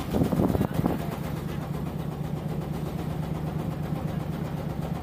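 A trawler engine drones steadily as the boat pulls away from the landing ghat, a low continuous mid-pitched rumble with a brief louder surge at the start and people talking over it.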